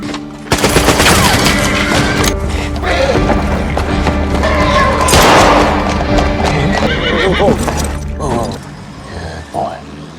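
Submachine gunfire from Sten guns in a Peaky Blinders film scene, mixed with horses neighing and hooves clattering, all dense and loud over music and shouting voices, fading toward the end.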